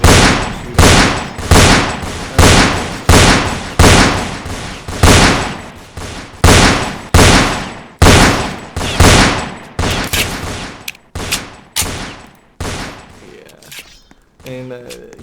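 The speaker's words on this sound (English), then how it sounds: "there are guns in it and they are pretty realistic looking, and you're shooting somebody" Gunfire in the Fortnite video game rings out as a long series of loud, sharp shots at a steady rhythm, roughly two per second, each followed by a short decay, before they turn more ragged and scattered toward the end.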